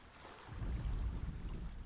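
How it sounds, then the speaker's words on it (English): Steady, low rushing water washes through a stretch of Hellblade: Senua's Sacrifice, a soft continuous flow with no other sounds over it. "Pretty decent water."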